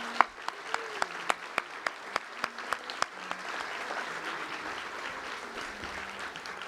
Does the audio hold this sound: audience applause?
yes